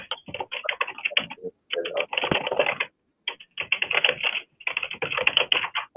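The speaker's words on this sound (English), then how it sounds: "All right, we can hear someone typing or something." Someone types on a computer keyboard during a meeting, producing rapid, close clicking keystrokes in bursts separated by brief pauses, with no talk over it.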